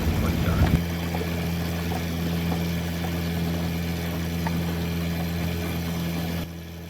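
A cruising sailboat motoring along the Intracoastal Waterway gives off a steady, close engine drone with a rougher rumble at the start, holding constant throughout.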